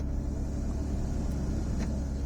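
A car engine idles in the cold while warming up, a steady low rumble close by with no talk over it.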